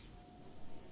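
Grasshoppers in a peat bog give a continuous, even, high-pitched chirring that stays faint and steady throughout, with no other sounds.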